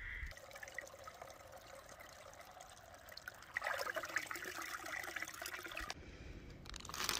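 A water source along the Appalachian Trail trickles and splashes in a steady, faint outdoor stream that swells louder partway through, with no voices.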